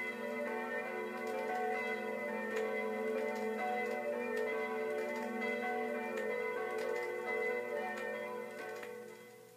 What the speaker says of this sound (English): Many churches have bells that chime to tell time,